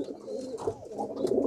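A pigeon cooing close by as it is let go, low throaty coos rising and falling in short rolling phrases, with no talking over them.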